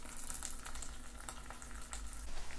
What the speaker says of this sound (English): let's add 1 cutlet in the hot oil.